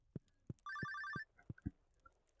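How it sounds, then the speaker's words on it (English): A telephone rings at night in the Stardew Valley Expanded video game, a loud electronic trill lasting about half a second, surrounded by soft footstep-like thumps and small game sound effects, with no talking. "What do you mean, phone call at 1:50 in the morning?"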